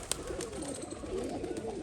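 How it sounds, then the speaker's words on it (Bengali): Pigeons cooing at close range, a low rolling coo repeating steadily through a short stretch with no talk over it, including a young Madras pigeon among the flock on a rainy day. "আজকে আবার একটা অতিথি পায়রা চলে আসছে ওই পায়রাটা দেখুন"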